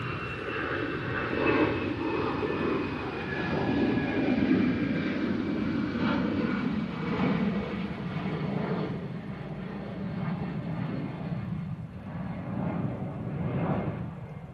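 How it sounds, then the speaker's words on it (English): An EasyJet jet airliner departs Manchester Airport, a steady broad engine roar with a faint whine, holding loud and fairly constant throughout with no talk over it. "EasyJet departure."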